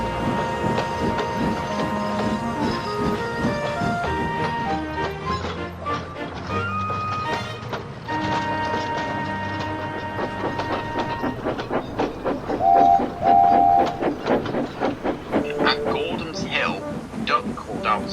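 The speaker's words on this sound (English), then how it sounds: "the two engines steamed away to Vickerstown" Steam engines chuff and rattle along with a rhythmic clickety-clack of rolling wagons, mixed under music and narration, with a whistle-like tone near the end.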